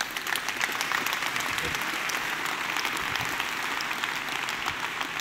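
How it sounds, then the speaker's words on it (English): An audience at a tech industry summit gives a sustained round of applause, a dense, steady clatter of many hands that holds at an even level for several seconds. "You guys all owe yourself a round of applause for such great artwork"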